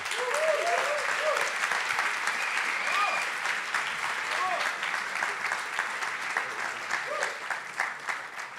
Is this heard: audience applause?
yes